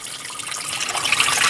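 A stream of water is poured out in a home kitchen while drumstick dal curry is being cooked, a close, even splashing flow that grows slightly louder toward the end, with no talking.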